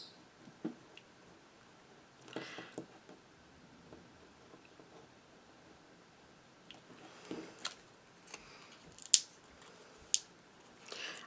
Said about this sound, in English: this line here and this line here are what I'm going to cut with my craft knife.